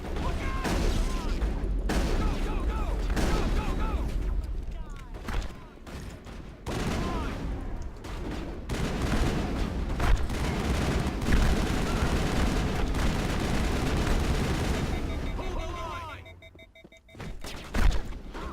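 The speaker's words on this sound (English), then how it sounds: "Why am I using my sniper rifle?" A combat firefight in Mass Effect, where gunfire including sniper rifle shots sounds as a dense run of loud, repeated bangs and bursts, with a brief lull near the end before a few final shots.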